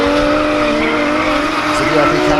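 A Nissan A31 Cefiro drift car at a pro drifting event at Hampton Downs, engine roaring steadily loud with tire squeal layered through, while a commentator talks over it.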